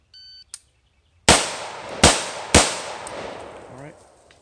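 AR15 rifle shots on a range during a shooting drill: a short timer beep, then three sharp, loud cracks in quick succession, each trailing off in a brief echo.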